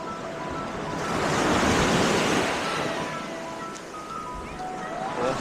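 Sea waves wash ashore at Paysawan Beach in Bagac, Bataan, a soft, broad surge swelling and fading with a light wind rush, heard moderately quiet and alone.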